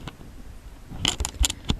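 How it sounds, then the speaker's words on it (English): Tarot cards are shuffled by hand in a few quick riffling bursts near the end, close and fairly quiet, with no voices. "now I'm going to shuffle the cards"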